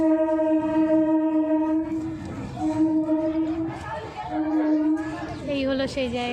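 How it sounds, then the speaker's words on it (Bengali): A train passes nearby on a hot afternoon near Kumartuli, with a sustained horn and a rumbling roll beneath it while a person talks over the sound. "এই দেখো ট্রেন যাচ্ছে।"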